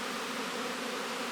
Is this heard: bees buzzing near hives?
yes